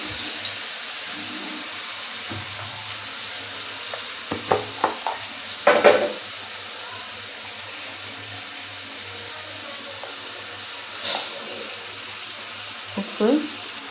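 Tomatoes and onions fry in a pan with a soft, steady sizzle, broken by a few scattered clinks and scrapes of a spoon stirring the pan.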